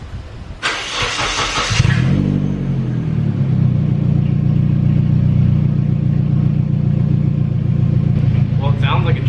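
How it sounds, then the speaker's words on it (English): Nissan 240SX with an open mid pipe: a short starter crank catches into a loud, raspy engine that settles into a steady, rough, droning idle with slight revving, close by and alone. "I'm actually gonna start the car right now, just because I want to see what it sounds like with an open mid pipe"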